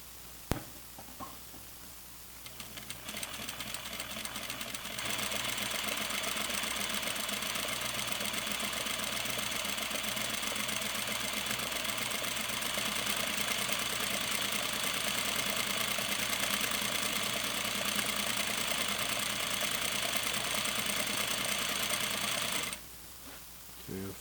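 A sewing machine stitches flannel pajama pants with pockets, its motor whirring in one steady, close run for about twenty seconds before stopping.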